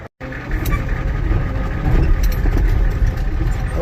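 Farmall H tractor engine running after an auction revival, a loud, close mid-pitched rumble with a low throbbing beat that swells slightly as it is revved.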